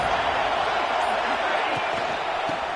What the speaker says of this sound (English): Third down and the Husker faithful getting loud